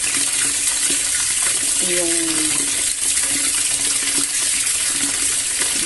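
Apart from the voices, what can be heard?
water poured into container with bleach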